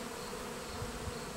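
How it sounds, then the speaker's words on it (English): A small wasp buzzes faintly and steadily nearby, a thin continuous drone with a couple of slightly louder low passes as it moves around. "Oh, and there's a little wasp."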